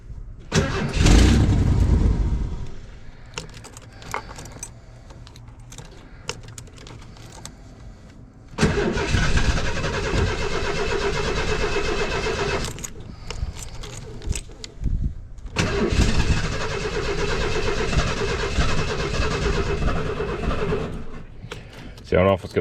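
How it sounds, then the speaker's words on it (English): A 1990 Ford van cranks and tries to start while a newly fitted fuel pump runs, with a loud cranking and engine roar in several long bursts, broken by quieter stretches where a voice speaks. "Oh, I definitely hear a fuel pump now."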